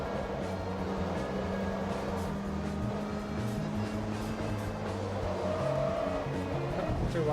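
Race car engine roars steadily with tires squealing as the car slides through a corner in Forza Motorsport 2, a continuous loud drone of engine and skidding throughout.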